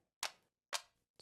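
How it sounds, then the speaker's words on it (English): Three crisp ticks at an even pace, each a sharp click with a quick decay into silence, close and fairly quiet. "What is that mysterious ticking noise?"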